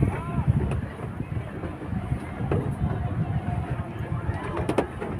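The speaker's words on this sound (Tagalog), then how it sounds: "malakas ang hangin" Strong wind buffets the microphone during boating at a water sports centre, a constant low roar with water and boat noise beneath and faint voices at times.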